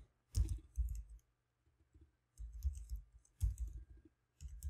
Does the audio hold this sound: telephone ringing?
no